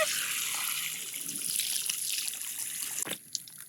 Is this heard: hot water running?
yes